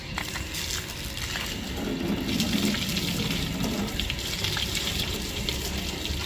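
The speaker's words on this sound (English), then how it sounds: "Rinse her off first with the hose." Steady rushing spray of water from a garden hose rinsing a small RC boat runs continuously throughout, a broad hiss with a slight surge in the middle, close by and with no talking.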